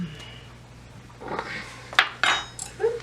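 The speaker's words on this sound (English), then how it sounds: "So that's what we're gonna just scoop this out." A spoon scoops and scrapes the slimy flesh out of a kiwano melon, giving a few short wet clinks and scrapes that grow louder toward the end over a faint background hum.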